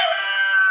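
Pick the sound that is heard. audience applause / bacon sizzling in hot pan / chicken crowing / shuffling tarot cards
chicken crowing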